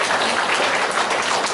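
A seated audience at a panel discussion forum applauds in a dense, even wash of clapping that holds steady and close from start to finish.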